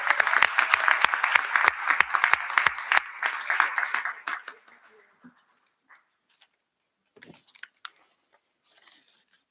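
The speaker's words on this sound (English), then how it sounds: "Let's give them another round of applause." An audience at a school board meeting applauds, loud and dense for about four seconds, then tapers off into scattered claps and quiet gaps.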